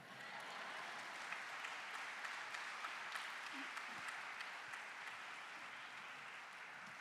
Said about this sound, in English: A huge round of applause once again for Mr. Anil Srinivasan.